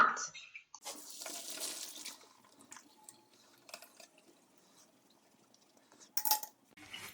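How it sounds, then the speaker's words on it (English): Hot water drained from a pot of cooked pasta into a sink, a rushing splash for a couple of seconds followed by scattered drips, a clink of metal and a louder clatter near the end. "After a few minutes, it's time to empty the water."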